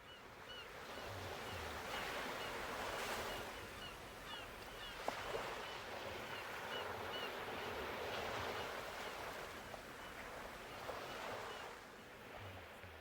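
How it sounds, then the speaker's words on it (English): Ocean waves wash onto a palm-lined beach in a soft, continuous rushing surf that swells and ebbs slowly, faint and distant throughout with no voices. "The rustling of the palm leaves blends with the rhythmic sound of the waves and the occasional call of a distant seabird"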